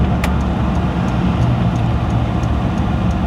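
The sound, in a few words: 1962 Chevrolet Impala station wagon driving and braking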